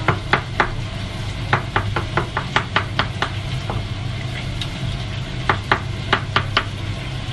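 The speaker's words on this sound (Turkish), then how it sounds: "Evet, mantarlarımızı da doğradık." Mushrooms being chopped with a knife on a cutting board in a home kitchen, a run of sharp rhythmic knocks in quick bursts with brief pauses, close and clear over a low steady background hum.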